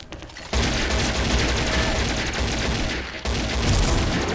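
An AK rifle firing bursts in the shooter game XSHOT, with loud, close, dense gunfire that starts after a short lull and pauses briefly before resuming.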